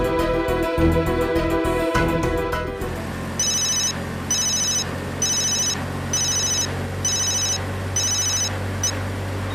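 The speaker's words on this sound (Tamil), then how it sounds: "ஆமா சுஜா ஃபோன் பண்ணி பேசுமா" A telephone rings in a drama scene, sounding as a run of repeated electronic ring bursts in a steady pulsing rhythm after a short stretch of music, loud and close with no talk over it.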